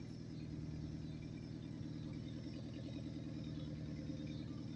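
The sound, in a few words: car engine idling up and down, in park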